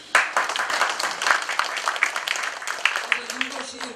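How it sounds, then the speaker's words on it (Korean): An audience at a tenth-anniversary ceremony claps in a dense, lively patter that lasts a few seconds and fades slightly toward the end. "박수 한번 쳐주세요."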